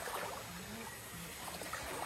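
A river stream flows beside people walking along its bank near a durian orchard, a soft continuous rush and trickle of water with faint splashes, low and steady.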